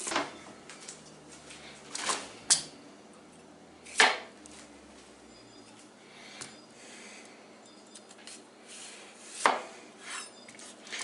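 A kitchen knife cuts a cucumber into half-moon slices on a board, with sharp, sparse chops spaced a second or two apart and quieter scraping between them, close and fairly quiet.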